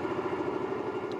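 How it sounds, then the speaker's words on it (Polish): A Honda Shadow 125 motorcycle engine idles steadily without choke, a close, even low throb with a fast regular pulse and no voices. "już w zasadzie silnik jest zdolny sam pracować bez ssania"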